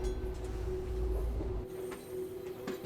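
Tram ride in the video game Syberia: The World Before, a steady low rail rumble with a sustained hum and faint clicks of the carriage running continuously.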